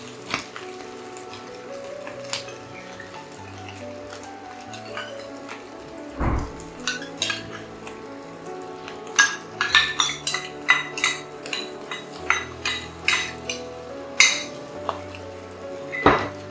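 Egg kothu chapathi being mixed with gravy in a pan, quick metal clinks and scrapes of a spatula against the pan, sparse at first and then a fast irregular run of close clatters.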